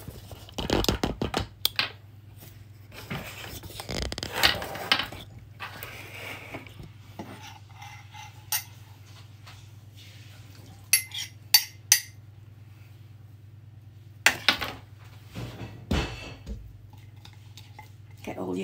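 Coffee being folded into coffee cake batter in a bowl, soft scrapes and sporadic clacks of a utensil against the bowl over a steady low hum, with a voice speaking at times.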